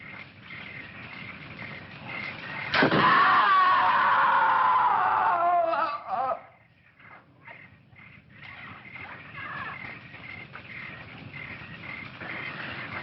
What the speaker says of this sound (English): I'm sure I heard a scream.